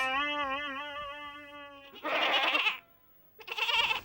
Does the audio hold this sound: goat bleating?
yes